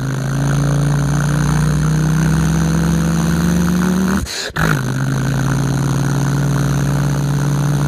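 A voice imitates a car engine, holding a steady idling rumble that dips briefly midway and then resumes at an even pitch, like the vehicle shifting into first gear and pulling away.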